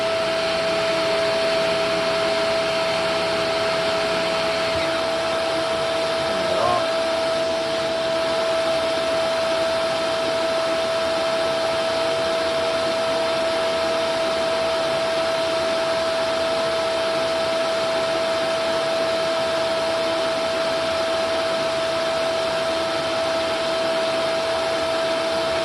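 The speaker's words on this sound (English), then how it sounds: "So with the machine running, we are at about 121 volts" Shark NV650W upright vacuum cleaner running steadily with its brush roll on, a loud continuous whine and motor drone with a constant tone, unchanging throughout and heard alone without talk.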